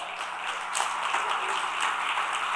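A church congregation applauding during a sermon, a steady wash of many hands clapping at moderate distance, continuous for a few seconds with no voices over it.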